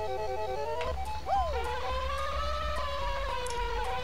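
A buzzing bee in the Banjo-Kazooie video game, a wavering insect drone that swoops in pitch over game music, with no one talking.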